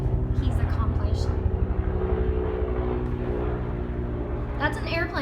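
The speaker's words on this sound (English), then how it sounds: "That's an airplane." Propeller airplane droning overhead outside a home greenhouse, a steady low engine hum running throughout while a person talks nearby.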